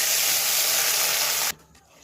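Pakora batter hits hot mustard oil with mustard seed and dried chili tempering in a kadai, a loud steady hiss of frying that cuts off abruptly after about a second and a half.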